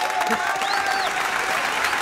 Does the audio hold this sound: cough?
no